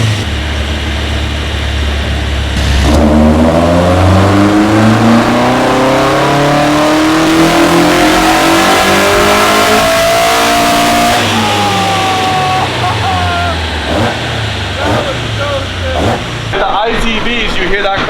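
A K-swapped Toyota AE86 with individual throttle bodies and VTEC revs hard on a dyno, climbing steadily through a long pull with a sharp crossover, loud and close, then dropping off and blipping again as people talk over it.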